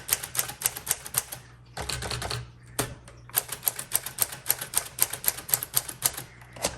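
A 1946 Sterling Speedline manual typewriter types in quick, close bursts of crisp key strikes, with brief pauses and a carriage-return thump partway through.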